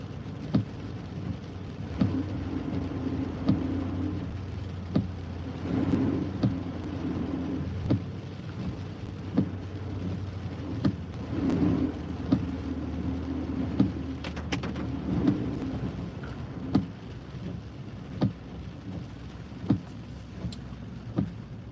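Heavy rain falls steadily during a thunderstorm along I-95 north of Boston, a constant wash with sharp cracks and low rumbles of thunder scattered throughout, close and loud, without talk.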